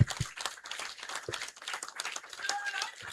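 A crowd at an AP employees' union gathering claps in a quick, uneven burst of hand claps, with some more distinct claps standing out in the mix.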